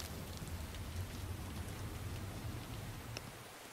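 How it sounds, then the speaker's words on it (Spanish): Heavy rain pours in Burmecia in the video game Final Fantasy IX, a dense, steady hiss of drops that fills the scene alone and stays quiet throughout. "¿Cómo llueve, tío?"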